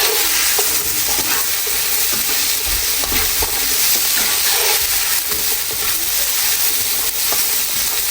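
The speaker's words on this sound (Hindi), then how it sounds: "ये सारी सब्ज़ियाँ हमने तेज़ फ्लेम के ऊपर जो है वो फ्राई करनी है" Carrots, peas and mushrooms stir-frying over a high flame, a steady loud broadband sizzle with scattered clicks and scrapes of stirring running continuously throughout.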